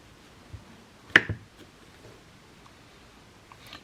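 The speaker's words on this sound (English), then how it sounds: "Now we need to stamp our postcard." A rubber stamp is pressed onto a handmade vintage-style Christmas postcard made from an index card. It makes a single sharp, close tap followed by near silence.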